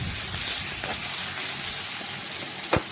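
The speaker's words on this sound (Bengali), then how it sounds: "এখন এক একটি মাছ তুলে নিয়ে তেলের মধ্যে দিয়ে দিচ্ছি।" Fish pieces laid one at a time into hot white oil in a kadai for a Bengali masala fish fry, giving a steady, close sizzling hiss throughout with a brief louder spit near the end.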